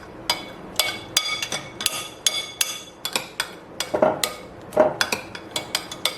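An electric beater whips cream in a bowl for homemade chocolate ice cream, giving a series of sharp clinks and knocks as the beaters strike the bowl's side, irregular and close.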